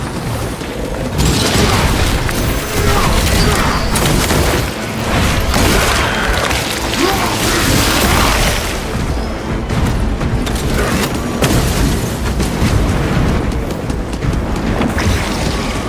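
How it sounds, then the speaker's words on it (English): A frag grenade explosion in a video game comes as a loud, sustained rumbling boom with roaring, surf-like noise and wind-like buffeting that fills the whole stretch, with no speech over it. "Frag grenade deployed."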